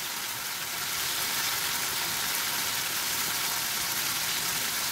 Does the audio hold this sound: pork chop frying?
yes